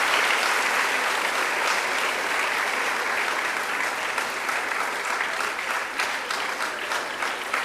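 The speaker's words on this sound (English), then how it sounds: "Clap for yourself and clap for her." Lecture audience applauding in a steady, dense round of clapping that holds at full strength throughout and thins slightly toward the end, with no voices over it.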